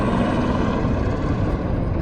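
A helicopter carrying pilgrims flies from Panchtarni toward Baltal in the mountains, with a steady loud rotor and engine roar that holds throughout, no voices.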